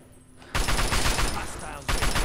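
Gunfire in Fallout 3: after a quiet half second, a loud sustained burst of shots erupts, eases slightly, then a fresh volley kicks in near the end.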